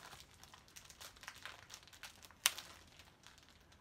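Soft, continuous plastic crinkling up close, with one sharp crackle partway through, and no voices.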